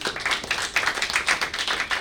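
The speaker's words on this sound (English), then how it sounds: "A round of applause for Naresh." A small group clapping, light uneven claps in a loose rhythm, fairly close and without voices.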